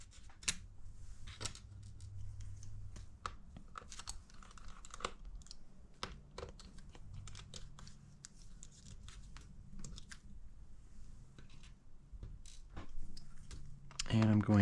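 Small screws on the hinge covers of a 2019 13-inch MacBook Pro A2159 are turned out with a T3 screwdriver, giving a run of faint, irregular ticks and clicks close up, ending in a louder rattle.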